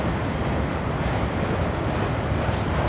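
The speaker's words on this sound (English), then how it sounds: "This is just a boring auto rack train." An auto rack freight train rolls past at night near Windsor, a steady, dense rumble and rattle of railcars that stays loud and unbroken throughout, with no voices.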